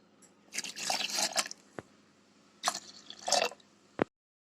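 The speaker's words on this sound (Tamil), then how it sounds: "இதில் 3 டம்ளர் தண்ணி சேர்த்துக்கோங்க." Water poured into a mixer jar holding ground amla and mint, splashing and gurgling in two separate bursts with a short lull between and a final brief clunk.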